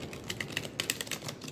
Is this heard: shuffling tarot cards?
yes